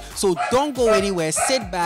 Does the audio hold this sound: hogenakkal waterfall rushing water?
no